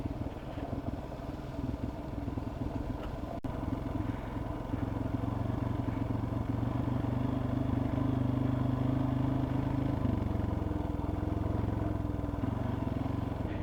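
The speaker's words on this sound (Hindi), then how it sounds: "बाइक ज़्यादा तेज़ भाग रही है, उसी टाइम एक गियर डाउन करके इंजन ब्रेकिंग का यूज़ कर लो।" A motorcycle descends a snowy mountain road in Harsil Valley over black ice, its engine held in a lower gear for engine braking, a steady close drone with a pitch that shifts and occasional clatter, no talk.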